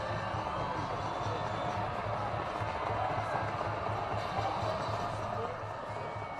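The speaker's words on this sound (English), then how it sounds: "Listen to this crowd." Crowd at a high school football game at Shields Field, a steady wash of distant cheering and crowd noise that dips slightly near the end.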